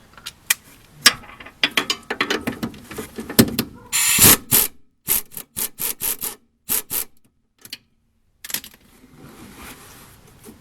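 A ratchet and socket work a sway bar bolt on a 2G DSM car, giving loud bursts of rapid clicking and grinding strokes separated by pauses, close up and with no talk.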